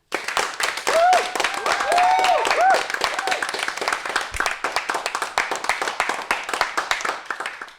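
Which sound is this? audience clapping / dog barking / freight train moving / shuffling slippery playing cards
audience clapping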